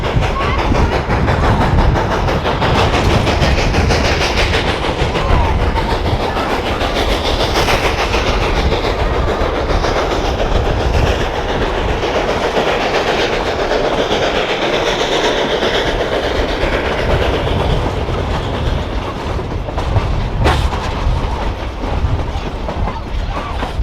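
The Nevada Northern Railway's historic train runs on, heard loud and close from an open car, with a steady rumble, rhythmic clickety-clack of wheels over rail joints and wind buffeting throughout.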